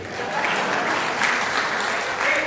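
Audience at a Hindi kavi sammelan poetry recital in Sitapur applauds in a brief, dense wash of clapping that stays steady for a few seconds.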